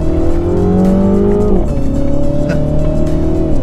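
A 2016 Mini John Cooper Works engine, 231 hp, revs hard under acceleration, pitch climbing, dropping at a gear change, then rising again, loud and close.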